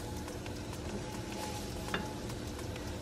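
Onions browning in hot oil hiss in a steady, low sizzle, with faint stirring scrapes and one brief clink partway through.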